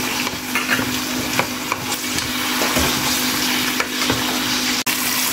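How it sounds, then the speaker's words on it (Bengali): Six small potatoes frying with browned onions in a pan for an egg dish, giving a continuous moderate sizzle with occasional stirring knocks and one sharp click near the end, close by and without voices. "আলুটা আমি কিছুক্ষণ ভেজে নেব"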